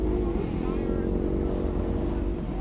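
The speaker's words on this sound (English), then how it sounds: "Everyone's revving." Superbikes revving at a busy car meet, a steady dense engine drone with people talking nearby throughout.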